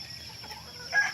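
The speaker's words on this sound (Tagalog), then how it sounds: "Yan, may mga manok." Chickens on a rural farmyard in the province in the early morning, a brief faint cluck or two over quiet background.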